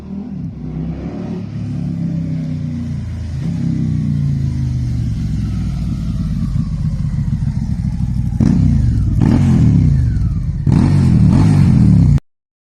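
A beginner motorcycle rides back past the camera, its engine droning steadily and growing louder as it nears, with a few sharp rev bursts near the end before the sound cuts off abruptly.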